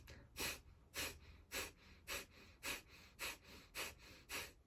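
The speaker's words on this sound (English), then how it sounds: "Inhale for breath of fire." Rapid rhythmic breath-of-fire breathing, about nine forceful nasal exhales at an even pace, close and fairly quiet with no talking.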